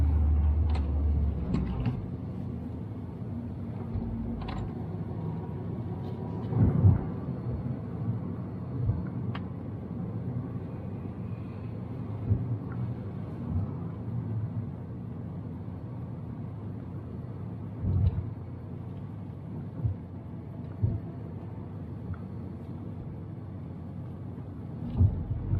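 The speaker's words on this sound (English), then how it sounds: "Hear the car like struggling a little bit." A manual car's engine labours with a low, steady rumble as the road grade changes, with a few brief louder surges and thumps along the way while no one speaks.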